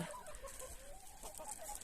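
Faint clucking from roosters, soft and somewhat distant over a steady background hiss, on a winter day.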